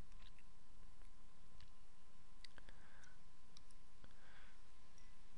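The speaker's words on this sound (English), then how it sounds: "You want to click on that." Sharp computer mouse clicks while setting up email forwarding in a web control panel, a few isolated, crisp ticks spread across a faint, steady background hiss.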